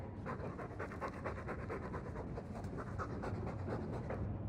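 A dog pants loudly and rapidly in a Dragon Age 2 video game scene, a steady close-up rhythm of quick breaths over a faint background hum with no talk.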